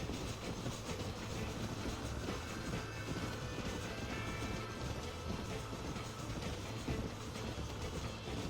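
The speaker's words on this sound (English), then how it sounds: "Train engine's still good." A train runs steadily in Red Dead Redemption, a close, continuous rumble of rolling cars with faint wheel clatter lasting throughout, no talk over it.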